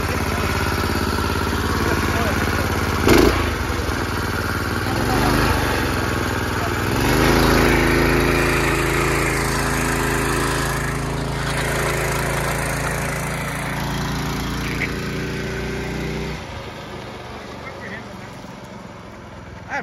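A shopping cart go-kart's small engine runs loudly and roughly, holding a steady drone with slight surges before cutting out near the end, while people talk over it.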